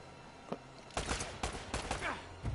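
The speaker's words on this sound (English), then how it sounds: "Who the frick is shooting me?" Enemy fire aimed at the player in Uncharted: a string of distinct, moderately quiet gunshot cracks in quick irregular bursts, some overlapping, with faint voices under them.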